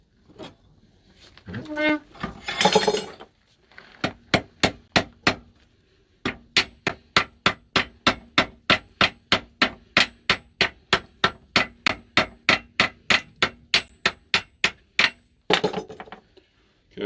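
Blacksmith hammering hot metal to forge a nail head at a state park forge, a long run of loud, evenly spaced ringing hammer blows on the anvil, with a few irregular strikes and brief talk at the start.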